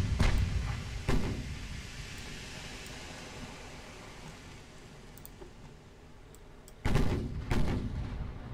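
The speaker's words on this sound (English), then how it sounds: "There's a hit from a 6-inch gun." Naval guns fire in Ultimate Admiral: Dreadnoughts, 1890 British warships exchanging shots. Booming hits land near the start and again near the end, with a long, low rumbling tail filling the gap between them.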